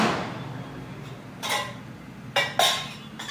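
A steel strainer is handled in a home kitchen, giving a few sharp metallic clinks and clatters, one around the middle and two close together near the end, over quiet background.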